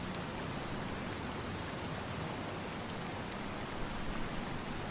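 Steady, even rainfall in the farming video game Farming Simulator 25, a soft continuous hiss of drops with no other sounds, held at a constant low level throughout.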